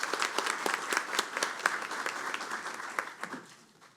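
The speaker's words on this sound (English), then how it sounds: "Give him a round of applause." Audience applause at the 119th Police Academy graduation ceremony, a dense, steady wash of many hands clapping that thins out and fades over the last second.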